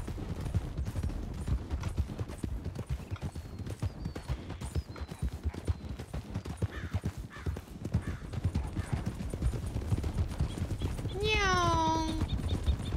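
Hoofbeats of a horse galloping in the Red Dead game RedM run steadily throughout under constant talk, with a whinny near the end and background game sounds.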